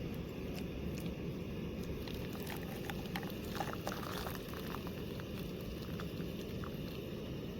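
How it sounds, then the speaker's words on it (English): Boiling water trickles and patters steadily into a coffee filter, a soft continuous pouring hiss with small splashes, quiet and close. "Pour your boiling water over it."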